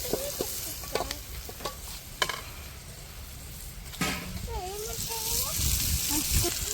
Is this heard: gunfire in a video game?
no